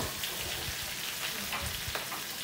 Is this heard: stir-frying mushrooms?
yes